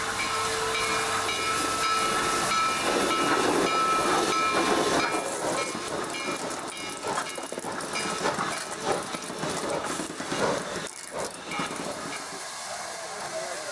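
Steam locomotive 734 arrives with its passenger train at the town of Frostburg in the Allegheny Mountains, with loud hissing steam, whistle tones and rolling rail noise, steady at first and then breaking into clanks and bumps.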